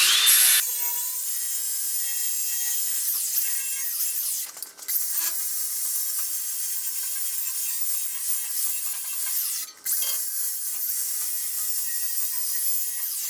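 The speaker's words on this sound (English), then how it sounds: "now I'm going to round it off with a flapper wheel" A flapper wheel grinding and rounding the corner of bumper trim on a 4x4 Pontiac project: a steady, close abrasive whine that runs continuously, broken by two brief dips as the wheel lifts off the metal.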